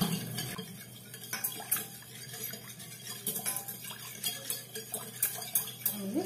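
Sugar and pineapple jam being mixed in a bowl, with soft clinks and scraping of a spoon against the dish in an irregular rhythm, fairly quiet and close with no talking.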